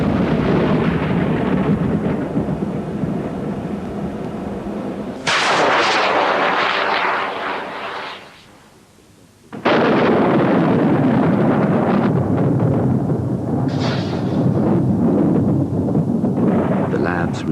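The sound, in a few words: rocket launch triggering a lightning strike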